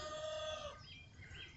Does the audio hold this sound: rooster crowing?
yes